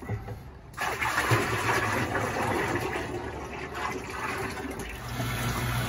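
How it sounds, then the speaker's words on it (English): Used deep fryer oil is filtered and drained through a filter machine, making a continuous rushing, gurgling flow that starts abruptly and holds steady at close range. "So we're filtering fryer number one using our coal oil filter."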